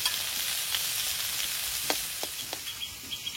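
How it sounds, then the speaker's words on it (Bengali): Garlic and shrimp fry in a pan with a soft, continuous sizzle and a few light stirring clicks and scrapes, fairly quiet and with no voices. "রসুনটা মাঝখানে দিয়ে দেবো, ভাজা হয়ে যাবে।"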